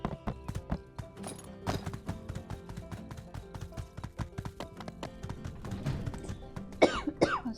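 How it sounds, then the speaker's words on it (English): A person gives a single cough during a farming video game session, heard over game sounds that include rhythmic horse hoof clip-clops and occasional taps. "I was trying really hard not to cough, but I just had to do it"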